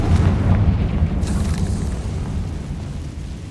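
A Confringo fire spell explodes in the Hogwarts Legacy video game: a loud, deep boom at the very start, followed by a rumbling burst that slowly fades over a few seconds, with no voices.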